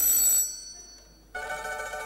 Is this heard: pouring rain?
no